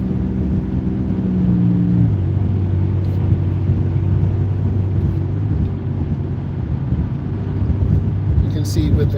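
A car accelerates on a highway, heard from the driver's seat. A steady engine rumble shifts in pitch after about two seconds, then rises continuously under road and wind noise.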